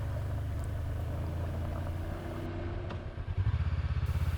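Honda CB500X motorcycle ridden along a forest road through sharp gutters: a steady low engine drone, with rhythmic thumping jolts building toward the end as the bike clatters over rough ground.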